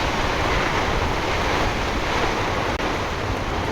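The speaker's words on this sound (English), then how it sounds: "So the wind shifted to the other side completely." Storm wind rushes hard across a sailboat during a possible tornado, a dense, loud, unbroken roar close to the microphone with no speech.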